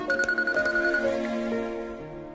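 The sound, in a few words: phone ringtone of an incoming call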